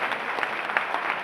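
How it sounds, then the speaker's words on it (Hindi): A crowd of listeners claps continuously at an outdoor gathering, a dense, evenly paced patter of many hands with a few louder claps standing out, moderately loud from start to finish. "तालियां बजाकर हाथ करके बताओ"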